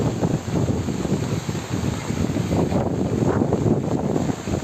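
Strong wind roars continuously against the microphone during heavy rain in Cape Verde, a loud, dense, unbroken rush with no voices.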